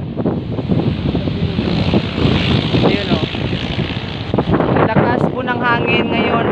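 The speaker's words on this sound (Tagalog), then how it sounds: "Hangin ngayon, ang lakas po ng hangin." Strong wind blows across an open kite-flying field, buffeting the microphone with a continuous roaring rush while voices talk in the background.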